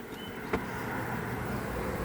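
Honey bees buzz faintly around a Dadant hive, a steady soft insect hum with one brief nearer pass, outdoors and without talk.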